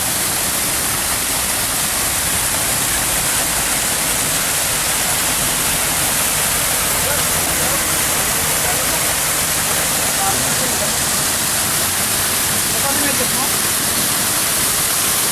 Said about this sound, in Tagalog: Habang bumabagsak ang